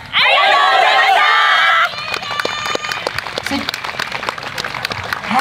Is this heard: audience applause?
yes